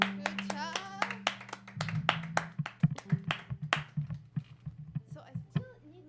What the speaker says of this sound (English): Clap to yourself.